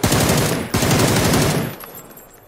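PUBG gunfire: two rapid automatic bursts, loud and close, the second trailing off into quieter echoes.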